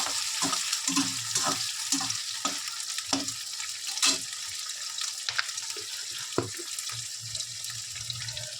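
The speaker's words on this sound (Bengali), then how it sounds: "শুকনো লঙ্কাটা দিয়ে দেবো, চিংড়ি মাছ দিয়ে ভেজে নেব। লাল লাল করে ভেজে নেব।" Shrimp and dried red chillies fry in hot oil, a steady close sizzle with scattered pops and stirring clatter, with no talking.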